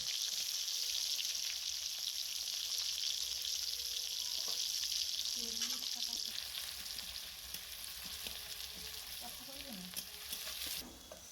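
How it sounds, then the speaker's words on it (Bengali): Chopped onions frying in hot mustard oil with a little cinnamon, a steady close sizzle with brief stirring scrapes partway through. "এবারে পেঁয়াজ কুচিগুলোও দিয়ে দিচ্ছি।"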